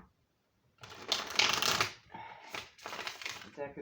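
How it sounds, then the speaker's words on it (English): Tarot oracle cards being shuffled by hand in close, papery riffling bursts, two main rounds separated by a brief pause after an initial silence. "Shuffle 3 times."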